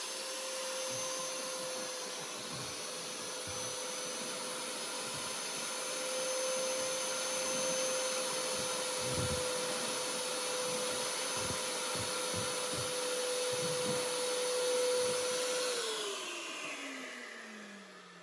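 An iQ426HEPA dust extractor runs steadily while vacuuming drywall dust, a loud continuous motor whine with rough suction noise that winds down near the end, and no voices.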